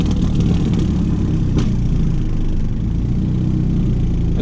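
Chrysler TC 16v car engine held at full throttle, a loud, sustained droning roar that stays steady throughout with little change in pitch, close to the listener.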